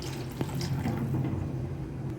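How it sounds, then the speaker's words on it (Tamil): A steady stream of water pours and splashes into sardine fish gravy with tamarind in a pot, continuous and fairly close, with no talking. "தேவையான அளவு தண்ணி ஊற்றிக்கலாம்."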